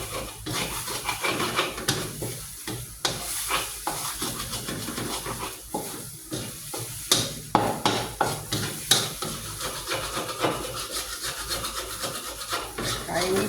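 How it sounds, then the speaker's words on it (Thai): Eggs being beaten and scrambled in a hot wok for stir-fried mee sua noodles, with a busy scraping, stirring clatter and light sizzle running throughout, close and fairly loud. "นี่ค่ะยีไข่เข้าไปเพื่อนๆให้มัน แตกจะดูสวยงาม"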